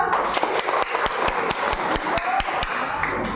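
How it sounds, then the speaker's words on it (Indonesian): Schoolchildren clapping together in a Catholic primary school classroom, a dense run of sharp hand claps with steady loudness throughout, loosely rhythmic and close by, with no talking over it. "terima kasih tepuk tangan semua"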